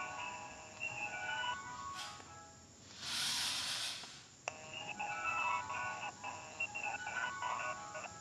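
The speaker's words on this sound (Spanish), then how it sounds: "¿Oís cómo se oye el móvil por los dos lados?" A mobile phone plays a tonal, electronic melody through the speaker, repeating in bursts. It is interrupted by a loud hissing spray around the middle and a sharp click.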